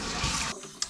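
A toilet flushes after a handle repair: a loud watery rush for half a second, then it drops to a quieter trickle of the tank starting to refill, with a brief clunk near the end.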